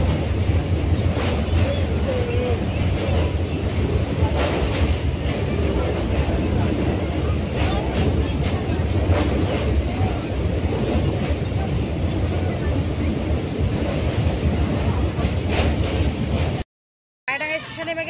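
A local passenger train running from Bardhaman toward Bandel and Naihati rumbles and rattles steadily on the rails, loud and close as if heard from inside, before the sound cuts out abruptly near the end.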